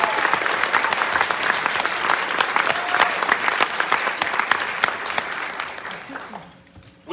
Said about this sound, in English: Can we go ahead and give all the middle school folks another round of applause